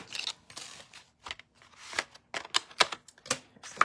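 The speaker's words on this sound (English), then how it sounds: "So let me die cut this out real quick." A paper label going through a die-cutting machine, with irregular crisp clicks, snaps and rustles in quick bursts, close and fairly quiet.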